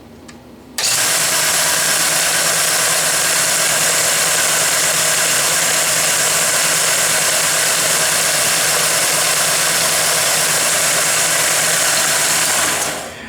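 A restored Mead band sander switches on and runs with a loud, steady motor roar and a bright rushing hiss from the belt. The noise holds unchanged for about twelve seconds before it starts to wind down.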